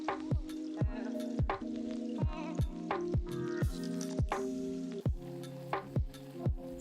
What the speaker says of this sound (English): Let the soup boil until the potatoes are completely cooked.